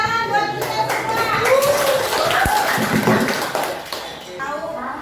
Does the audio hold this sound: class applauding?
yes